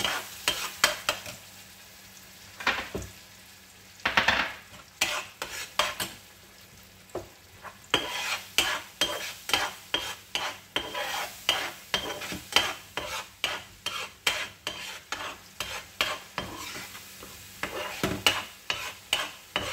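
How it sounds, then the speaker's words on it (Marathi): Mango pulp cooks down in a pan while a spoon stirs it in a steady rhythm of repeated scraping strokes over a soft bubbling sizzle, heard close and without talk, made for coconut and mango laddoos. "आंब्याच्या रसाला छान घट्ट होईपर्यंत शिजू द्यायचं।"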